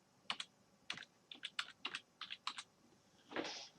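A password is typed on a computer keyboard in a quick run of about ten close, distinct key taps, ending in a slightly longer press, with nothing else audible.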